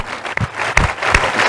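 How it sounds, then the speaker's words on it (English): Audience applause at a community foundation luncheon gathering, a steady wash of clapping with a few sharper claps standing out over the brief stretch. "I'd like you all to applaud each other for being here today"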